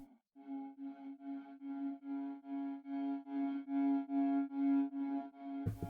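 A dark UK drill melody in FL Studio, built from an ethnic flute sample processed with halftime, reverb and a reversed effect, plays as repeated swelling flute phrases in a steady rhythm and ends in a sudden low burst.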